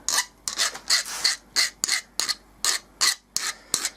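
Aluminium strips being filed smooth of dents and protruding edges, heard as a steady series of about ten rhythmic rasping strokes, close and alone with no talking.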